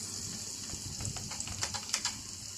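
Chicken curry masala of desi chicken with ginger paste, garlic, chopped tomato, salt and turmeric frying in a pan: a steady close sizzle with light crackling pops toward the end, under a quiet voice.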